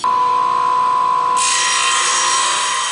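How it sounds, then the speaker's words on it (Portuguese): Water-cooled electric saw cutting brick and ceramic tile, a steady high-pitched whine that turns into a louder, brighter grinding rasp as the blade bites into the material partway through; no voices. "serra elétrica de última geração. Ela é um corte refrigerado, né? Trabalha com água e evita muito a poeira para o operador"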